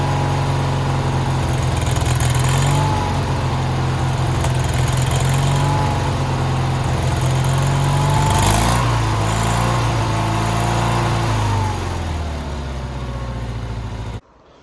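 Small engine of a Sears garden tractor running steadily at low idle, a continuous close puttering drone that eases down slightly near the end.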